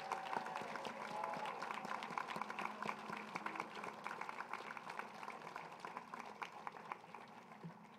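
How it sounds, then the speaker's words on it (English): Crowd applauding staff at the National Air and Space Museum, a continuous wash of many clapping hands, fairly distant and soft, with faint murmuring underneath. "Please give them a round of applause for their extraordinary service."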